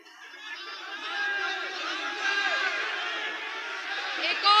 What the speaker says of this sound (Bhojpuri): एक बार पुरजोर तालियां बजा के बताएं कि आप अपनी बेटी के साथ हैं।